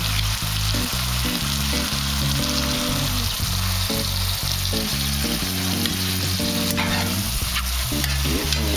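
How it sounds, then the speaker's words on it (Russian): Mushrooms sizzle and fry in a hot pan, a steady loud crackle with occasional stirring scrapes, close up and without talk. "грибы как бы начали уже поджариваться"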